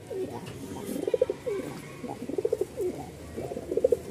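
A male tumbler-cross pigeon at a market coos in repeated rolling bursts, fairly close, with faint background noise.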